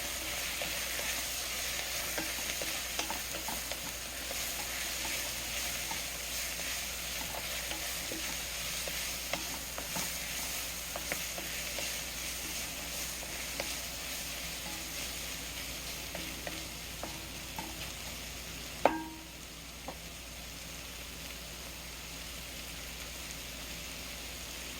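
Lamb stew ingredients fry and get stirred in a pot, a steady, moderate sizzle with scattered crackles and spoon scrapes for about twenty-five seconds, one sharp knock near the end and no voices.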